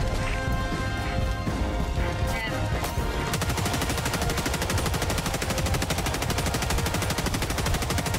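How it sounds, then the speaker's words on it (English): Dense, loud automatic gunfire keeps up without a break in the video game Helldivers 2 as shots go out at tracers. Heavy rapid reports and crashes fill the whole stretch, and voices come through faintly in the first part. "I'm just shooting at tracers back there."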